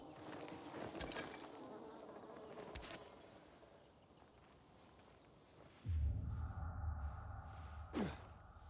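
Buzzing bees in the Dying Light 2 Stay Human video game, a soft insect drone beneath quiet ambience and footsteps, swelling into a louder, nearer low hum toward the end with a brief sliding sound.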